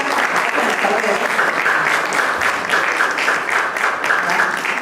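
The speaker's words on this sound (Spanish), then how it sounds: "Un aplauso para José." Audience applause fills a lecture hall at a university engineering faculty event, steady dense clapping sustained throughout at close range, with no talk over it.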